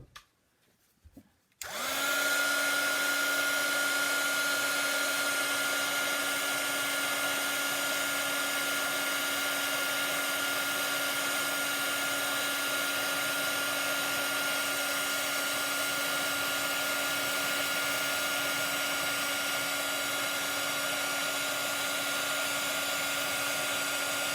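A heat tool is switched on after a short quiet moment and then blows a steady, loud whine and rush of air without a break while it sets paint on a white and sand butterfly craft project.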